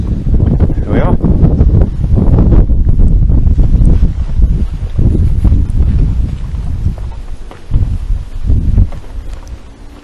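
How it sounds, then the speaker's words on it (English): Strong wind buffets the microphone outdoors during a walk, a loud, continuous low roar that gusts and dips unevenly from start to finish. "The wind direction really has turned into the other direction."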